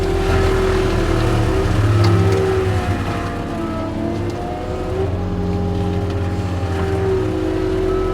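A skid steer doing forestry mulching runs with a loud, steady diesel drone and revving engine harmonics that swell and ease slightly, close by throughout with no talk.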